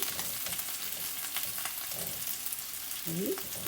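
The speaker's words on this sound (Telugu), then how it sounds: "షాలో ఫ్రై చేస్తున్నాం కాబట్టి ఇలా జాగ్రత్తగా తిప్పుకుంటూ" Potatoes shallow frying in an iron kadai for dum aloo curry, a steady close sizzle of hot oil with occasional scraping stirs and a brief tonal squeak near the end.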